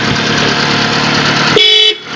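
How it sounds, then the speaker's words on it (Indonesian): A first-generation Toyota Calya sounds its horn, a loud close steady blare that cuts in over the idling engine and holds for about a third of a second before the engine carries on alone. "Klaksonnya aja masih luar biasa, masih top sekali."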